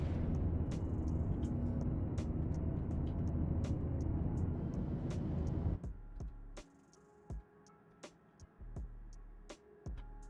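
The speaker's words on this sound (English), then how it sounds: "I love that pulling the landing gear out sounds like a bus stopping." Spacecraft landing gear deploying in Star Citizen 4.1, a heavy mechanical rumble and hiss like a bus pulling to a stop, cutting off abruptly into quieter cockpit hum with scattered clicks and beeps.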